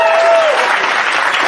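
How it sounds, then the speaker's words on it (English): Steady applause from an audience, dense clapping filling the space at a fairly loud, even level throughout. "Round of applause for them."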